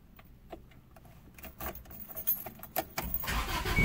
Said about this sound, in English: now we're gonna start the car